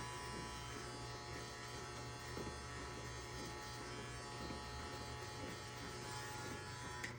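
Electric hair clippers fitted with a 2-guard buzz steadily and up close while cutting hair for a fade, a constant low hum with slight shifts as the blade moves.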